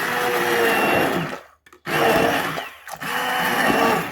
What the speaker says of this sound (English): So I got my immersion blender. I'm just gonna immersion.